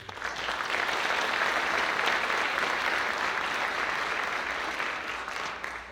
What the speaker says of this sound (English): just a big round of applause to all of you